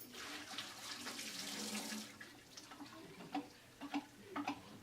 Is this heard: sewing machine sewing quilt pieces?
no